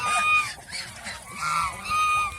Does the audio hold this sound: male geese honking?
yes